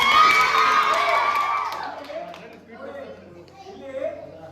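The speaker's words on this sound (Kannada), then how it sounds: "ಇದು ಚಪ್ಪಾಳೆ ಮುಖಾಂತರ" Schoolchildren at a school election cheer and shout as a crowd, loud at first and then fading into scattered chatter and kids' voices.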